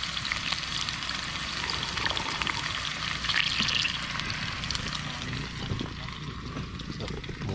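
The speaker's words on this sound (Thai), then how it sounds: "เดี๋ยวพลิกไปพลิกมาคั่วไปคั่วมาทอดไปทอดมา เดี๋ยวก็ได้ สุกครับ" Pork frying in a pot on a small camping stove at a tent campsite, a continuous dense sizzle and crackle close by, with occasional stirring clinks throughout.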